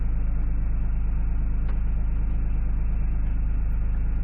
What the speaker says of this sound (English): there's Sue with the tractor on cue anytime I start a video